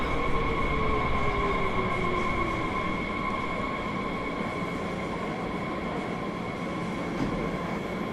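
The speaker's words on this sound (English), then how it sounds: "This is the DBBR 430. Now this is a new train to Train Sim World." Steady rumble and rolling hum of a DB BR 430 S-Bahn electric train on the Frankfurt S-Bahn in Train Sim World 5, a continuous level drone with sustained tones and no voices.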